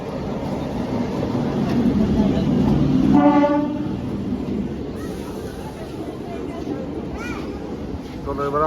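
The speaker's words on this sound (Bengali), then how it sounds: "চলো এবার আমাদের ট্রেন চলে এসছে" A local train pulls into a station platform while its horn toots in several short, loud blasts over the rumble of the approaching train, with crowd noise around.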